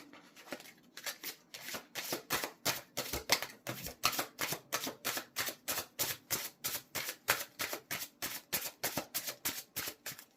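Tarot cards are riffled repeatedly in quick, even bursts of crisp flapping, close and fairly quiet, with no talking.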